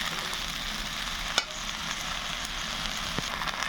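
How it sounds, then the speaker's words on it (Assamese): Indian jujubes dropped into hot smoking oil for pickle make a steady, soft sizzle and crackle in a home kitchen, with a brief clatter of a utensil partway through. "তেল গৰম হ'ল আৰু মই বগৰীখিনি তাৰ পৰা তুলি আনি ডাইৰেক্ট তেলতে দি দিছোঁ"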